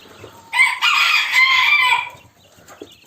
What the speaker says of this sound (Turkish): Güzel çok güzel ötüyor.